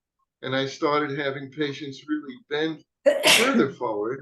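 A single sharp sneeze bursts out close to the mic in the middle of steady conversational speech, loud and brief, with talking continuing right after it.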